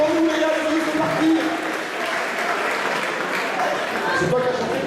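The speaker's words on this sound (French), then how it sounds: "c'est nous demander d'applaudir la morale" An audience at an amateur rugby awards evening claps steadily and loudly throughout, with voices calling out and chattering over the applause.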